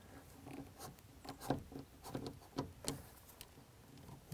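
A blade cuts through tough plastic truck bed liner on a Dodge Ram 1500 pickup, giving quiet, uneven scraping and rasping strokes that repeat close by.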